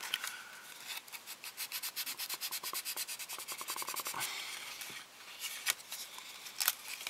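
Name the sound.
sanding plastic model kit parts with 320 grit sandpaper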